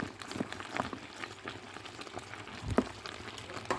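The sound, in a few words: yam, potato and plantain porridge boiling in a pot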